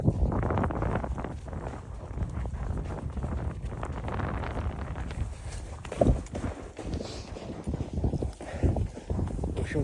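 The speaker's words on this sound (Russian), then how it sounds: "В общем, кони просто огонь. Несут нас во весь опор." Horses gallop along a snowy winter mountain trail toward the Ulu-Syky summit on Irandyk, hoofbeats thudding in a fast, uneven patter through heavy wind noise buffeting the microphone.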